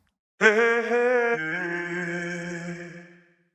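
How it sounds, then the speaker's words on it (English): Chopped, pitched vocal syllables from Groove Agent 5 in a sustained harmonic phrase that drops in pitch partway, then fades out; clear and alone. "it's got some vocal chops coming out of another Groove Agent 5."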